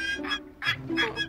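A cartoon bird quacks in three short, bright calls spaced through a brief moment, loud and close, with a low steady hum beneath.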